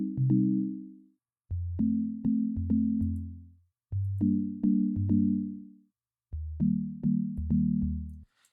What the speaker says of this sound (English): those cool little chord stabs that are happening that really play well with the bass line